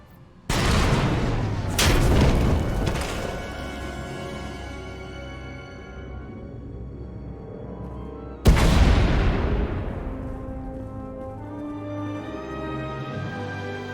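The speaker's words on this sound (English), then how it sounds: "We heard explosions, the tunnel collapsed." Explosions in the Star Wars: The Old Republic video game: two loud booming blasts close together, then a third heavy blast about six seconds later, each followed by rumbling rubble and debris decay.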